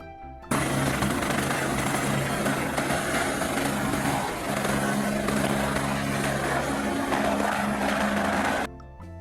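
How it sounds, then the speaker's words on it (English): A helicopter's engine and rotor churn in a loud, continuous mechanical roar with a steady droning hum underneath, lasting most of the nine seconds without talk. "helicopter."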